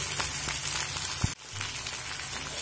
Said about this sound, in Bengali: এই ধনেপাতাগুলো দিয়ে আবারও আমি 1 মিনিট মতো মিডিয়াম ফ্লেম করে নাড়াচাড়া করে